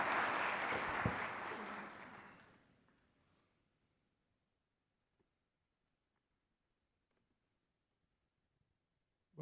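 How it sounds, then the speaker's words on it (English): Audience applause at an evening debate event honouring a CEO, full clapping for about two seconds that thins and dies away into near silence. "Let's have an applause for them."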